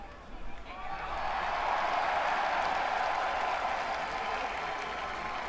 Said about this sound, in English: Look at that crowd. That's crazy.